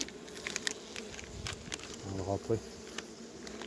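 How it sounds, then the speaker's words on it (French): Honey bees buzz around an open beehive while a beekeeper works the comb, a steady close insect hum broken by sharp clicks, with a brief spoken remark near the end. "Les abeilles qui sont restées coincées dans la poche"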